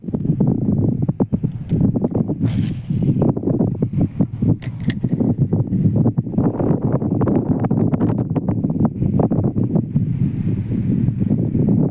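Strong wind roars across the microphone at an outdoor freshwater fishing spot, a loud, steady, low buffeting rumble that runs the whole time with no voices.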